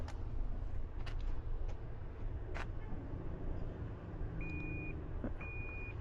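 Short electronic tones beep during windshield camera calibration on a 2018 Toyota RAV4, two thin steady beeps near the end over a low engine rumble and faint clicks.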